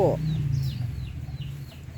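White egg-laying chickens and a rooster kept at a rescue shelter, with faint, scattered clucking and soft calls over a low background murmur.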